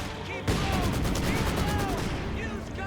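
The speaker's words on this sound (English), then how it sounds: "So we have a nice 3-inch mortar emplacement here on the hills to help cover our troops here" Mortar barrage from a 3-inch mortar emplacement on a hill in Company of Heroes 2, a sudden loud onset of dense rumbling blasts and crackling gunfire that continues steadily, with voices under the battle din.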